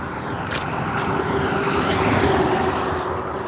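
A Red Bull truck drives past outdoors, a steady broad engine and road rumble that holds level throughout without talk.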